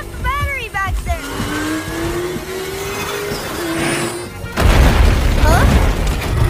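An animated robot turns into a racing motorbike and speeds off, a rising engine whine sweeping past behind brief voice sounds, followed by a heavy rumbling burst as it blasts away.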